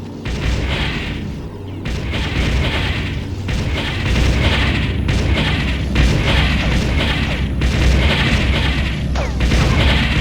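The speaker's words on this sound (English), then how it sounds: "Enemy Haverdyne destroyed." Enemy Haverdyne unit destroyed in the Ground Control strategy game, heavy booming explosions and crashing blasts repeating over a dense battle din.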